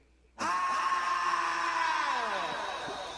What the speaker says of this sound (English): That's the scream of the fans.